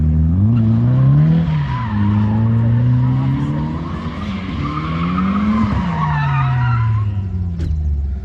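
A Toyota Cressida drifts at a car club motorsport event, its tyres giving a loud, sustained squeal that rises and falls with the engine's revving, heard continuously and close by.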